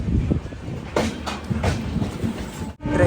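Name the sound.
Kerala Express train running on rails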